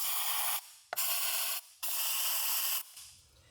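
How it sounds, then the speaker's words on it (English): Compressed air blasts into the spark plug wells of a 2010–2015 Chevrolet Volt in three loud, steady hissing bursts separated by short pauses, close up and with no talking. "So we're gonna get some compressed air"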